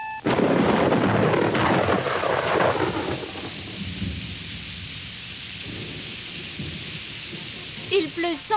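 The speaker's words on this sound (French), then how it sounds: "Il pleut sans arrêt depuis 2 semaines." A sharp crack of thunder rolls into a long rumble, followed by steady heavy rain pattering on surfaces, in a French-dubbed Super Mario Bros. 3 cartoon.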